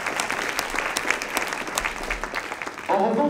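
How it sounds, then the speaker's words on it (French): An audience at a French university award ceremony claps steadily and densely throughout, with a voice briefly over the applause near the end. "On peut les applaudir, bien évidemment."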